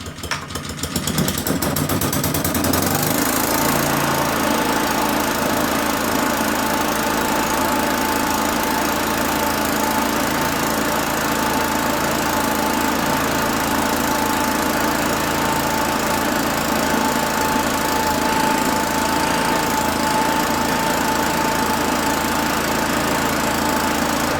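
A Honda Hover Flymo petrol lawn mower engine sputters to life, then runs loud and steady at close range with a constant buzzing drone that refuses to shut off.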